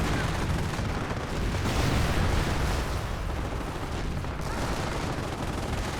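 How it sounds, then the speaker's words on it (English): Sherman tank gunfire against a Panzer IV in a Company of Heroes battle, a dense continuous wall of loud booms and shooting with no pause for the full stretch. "Recovered Sherman tank now firing away against the Panzer IV."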